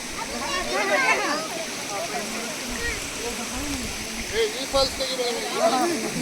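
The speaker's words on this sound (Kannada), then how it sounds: "ಫಾಲ್ಸ್ ಸಖತ್ ನೀರು ಬರ್ತಾ ಇದೆ." Rushing water of a waterfall running high with heavy flow, a steady broadband roar throughout, with people talking excitedly over it.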